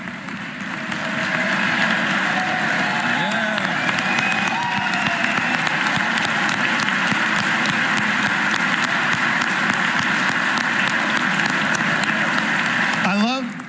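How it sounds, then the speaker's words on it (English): Sustained crowd applause at a Pennsylvania budget address fills the space for over ten seconds, steady and dense, with a murmur of voices mixed in beneath the clapping. "I love that our favorite plumber senator led the clapping for the trades."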